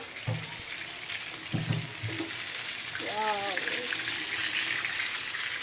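A large whole tilapia fries in hot oil with a constant close sizzle and crackle, while a voice speaks briefly over it.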